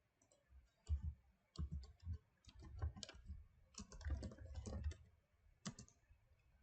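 Keys clack on a computer keyboard while a MySQL database-creation command is typed on Windows, arriving as uneven bursts of close, crisp taps with brief pauses between words, no talking.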